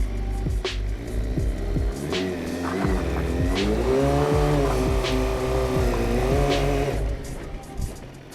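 Close, loud motorcycle burnout on a slippy surface: the engine revs up and holds in wavering surges as the spinning rear tire squeals, easing off near the end.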